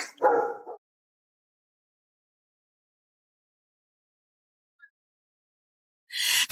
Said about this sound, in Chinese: 这不是普通狗叫，他是在让我们进去。